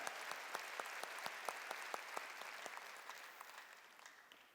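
A church congregation applauds in a large hall, a steady patter of many hands, fairly soft and fading toward the end.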